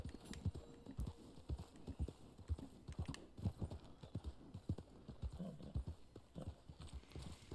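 Horse hooves clip-clopping in the video game Red Dead Online, a rapid, uneven run of sharp hoof strikes at close range, continuous throughout with a faint background.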